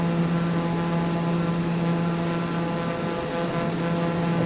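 A simulated TBM 930 single-engine turboprop cruises over the High Atlas near Marrakech, its steady propeller drone and engine hum constant and loud throughout, with no breaks.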